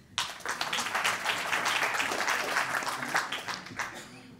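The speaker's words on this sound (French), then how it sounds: "Vous pouvez l'applaudir." An audience at a Grand Paris conference applauds a speaker who is being introduced, with clapping that swells in suddenly and holds at a steady, full level for several seconds, and a voice faintly audible under it.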